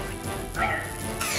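A dog barks a few times amid busy, layered background music and voices, the yaps short and fairly close.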